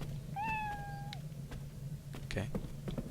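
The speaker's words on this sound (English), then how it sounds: "Anytime I hear a cat meow" A cat meows once in the video game Lost Odyssey, a clear rising-then-falling tonal call about a second long, followed by brief faint game sounds and low background noise, with voices faintly present.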